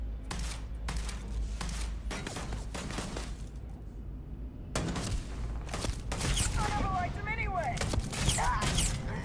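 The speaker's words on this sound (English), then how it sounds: "Who was shooting at me? Who was throwing grenades at me?" Rapid bursts of gunfire with heavier booming blasts from grenade explosions in the sci-fi game Starfield, dense and loud across the clip, mixed with game voices and effects.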